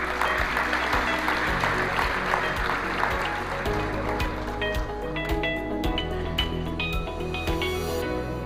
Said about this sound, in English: could you give them a good round of applause?